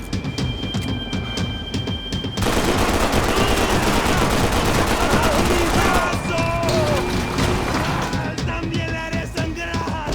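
Heavy automatic gunfire fills a firefight in the video game Max Payne 3, loud sustained bursts of rapid shots with sharp single cracks before and after, dense and close throughout.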